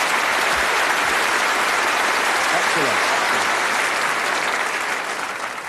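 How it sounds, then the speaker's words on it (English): A studio audience at a British TV darts game show claps in loud, sustained applause that fades slightly at the end, while a host speaks briefly over it. "Give them a nice round of applause."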